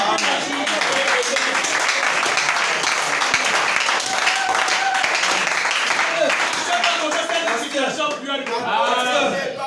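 A church congregation applauding loudly, a thick continuous mass of clapping with scattered cheers and shouted voices rising through it and easing slightly near the end.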